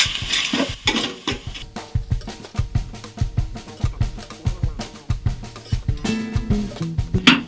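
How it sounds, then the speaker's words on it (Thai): A utensil stir-fries Isan-style om curry paste with beef shank in a pan, giving loud, close scraping strokes in a steady, quick rhythm with a faint sizzle underneath. "คั่วนะครับลงไปคั่วลงไปผัด เครื่องอ่อมของเราเลยนะครับ"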